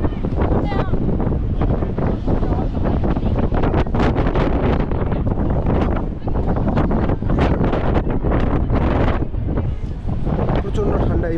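A strong, cold coastal wind buffets the microphone nonstop at the Twelve Apostles on the Great Ocean Road, Australia, a loud roaring rumble that drowns out everything else.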